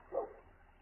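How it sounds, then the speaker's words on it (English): A single short dog bark or yip outside a trailer at a trailer park, faint and distant, followed by quiet background. "All right, the dogs are back barking."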